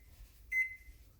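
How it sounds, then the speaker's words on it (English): A single short electronic beep from a kitchen oven's timer being set while baking a Jamaican fruit cake, brief and moderately loud over faint background hum. "I'm going to put a timer on it for say 50 minutes."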